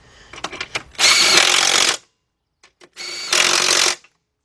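An impact wrench removes two 14mm bolts during engine removal on a 2006 Kia Sportage 2.7, firing in two loud, close, rattling bursts of about a second each, with a few clicks and knocks between them.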